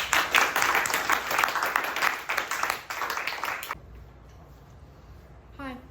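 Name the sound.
audience applause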